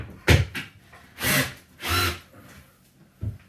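Power drill driving a structural fastener into cabinet wood, three short whirring bursts with a brief tap at the end, fairly quiet and close.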